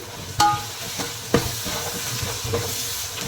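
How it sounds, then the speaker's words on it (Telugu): Mint, coriander and methi leaves fry with spices in a chicken biryani masala, a low continuous sizzle with a few distinct knocks of a stirring spoon against the pot. "మన వేసిన మసాలాలన్నీ బాగా వేగాయండి"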